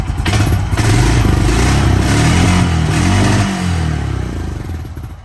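A 1998 Honda 450S motorcycle engine runs steadily after a carburetor fix, a loud, close, continuous idle with a low throbbing rumble and slight rises in revs throughout.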